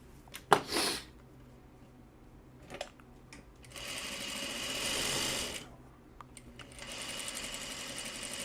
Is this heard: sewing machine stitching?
yes